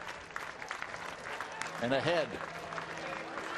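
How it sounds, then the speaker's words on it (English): A baseball stadium crowd cheers and applauds with the bases loaded at a New York Yankees at Toronto game, swelling into a brief burst of noise under a commentator's talk. "you hear the crowd starting to get into it with the bases loaded and a 2-strike count"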